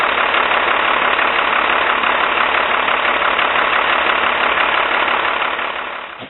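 A Cummins diesel engine with a VE injection pump runs steadily at idle after air in the injector line, a loud, continuous close-up rumble with a slight uneven knock that eases off at the very end.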